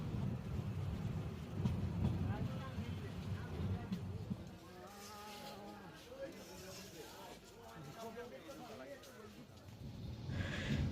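A passenger train runs through Akhaura railway junction station in Bangladesh, its steady low rumble and rattle continuing under a person talking.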